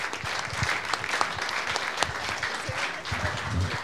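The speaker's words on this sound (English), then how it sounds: "And a special applause, I would say." An audience at a conference claps together in a steady, dense burst of applause that stays fairly loud and close throughout, with no one speaking over it.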